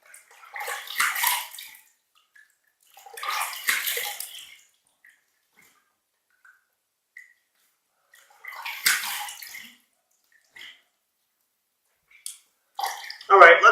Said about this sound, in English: warm water rinse from the tap and a cold water rinse